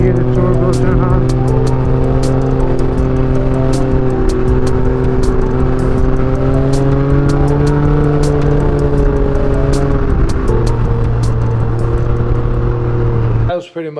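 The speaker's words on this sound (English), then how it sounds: "Hear the turbo turn on." A Vanderhall Venice's turbocharged engine runs loud and close, its droning tones climbing steadily as the turbo spools up, then dropping before cutting off abruptly at the end.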